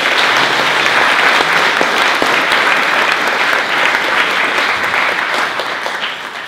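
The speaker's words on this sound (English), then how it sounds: "So maybe give them a round of applause for the film." Theatre audience applauds a film at a live performance event, loud, full clapping from a large crowd that holds steady, then gradually thins and fades toward the end.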